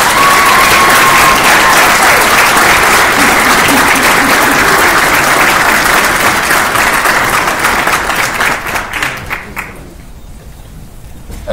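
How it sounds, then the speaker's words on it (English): Loud, sustained round of applause from a large crowd at a military graduation ceremony of a field artillery battalion, steady dense clapping for about nine seconds before tapering off quickly. "please join me in a well-deserved round of applause for our distinguished graduates."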